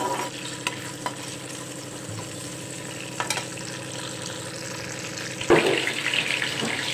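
Mint leaves frying in hot oil in a pan while stirred for a stuffed brinjal curry, a steady close sizzle with faint scraping and a louder burst of sizzling near the end.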